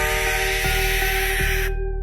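A barn owl's harsh scream sounds as one long, loud, raspy screech held for nearly two seconds before it cuts off abruptly into silence.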